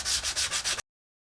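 Balsa wood wing sheeting on a model glider is sanded by hand in five quick, even back-and-forth strokes, a close, airy scratching that stops abruptly.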